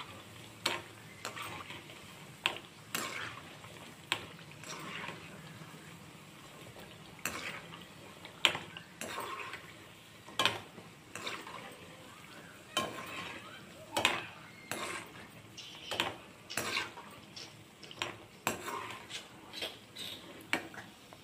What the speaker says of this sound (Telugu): ఈ వడియాలు కొంచెం మీడియం ఫ్లేమ్లో పెట్టి వేయించుకోవాలి